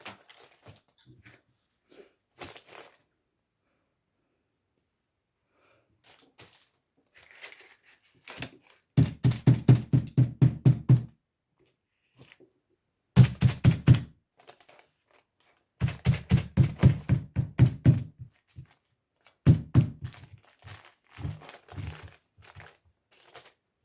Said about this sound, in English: I've got the tennis ball out at the moment, so I'm just doing a few different marks with that.